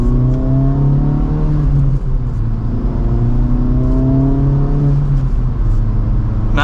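A 2024 Acura Integra Type S pulls in second gear in Sport Plus mode, its engine note rising steadily in smooth, continuous climbing harmonics over road rumble, heard close from inside the cabin with no talking.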